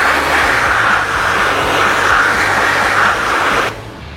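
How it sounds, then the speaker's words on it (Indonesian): Touchless rinse of a car with a jet washer: a steady, loud broadband hiss of high-pressure water spray runs continuously for about four seconds, then cuts off abruptly near the end. "kita lihat sebaran air yang keluar dari jet washer"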